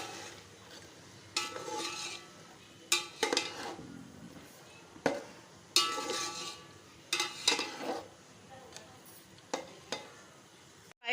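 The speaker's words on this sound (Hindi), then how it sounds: "अब चिकन को जो है थोड़ा सा अदरक लहसुन के साथ हम भून लेंगे।" Chicken frying with ginger, garlic and green chilli paste in a pot for white yakhni pulao, with repeated spoon scrapes and stirring clatter over a steady low sizzle, moderately close and without talk.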